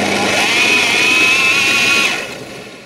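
An electric drill spins a PVC sewage-pipe slingshot crossbow, a loud close whine holding a steady pitch for about two seconds, then winding down.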